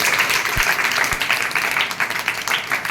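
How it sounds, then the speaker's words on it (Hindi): Steady applause from a crowd at a school event, dense clapping filling the whole stretch at an even level. "तालियां बजाइए"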